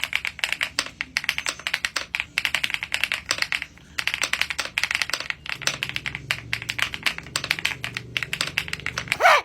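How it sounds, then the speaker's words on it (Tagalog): Typing on a keyboard set on the floor, with a steady run of close, crisp key clacks and taps that pauses briefly and then resumes, with no voices. "Kunyari nagtatype tayo, dito muna tayo sa sahig"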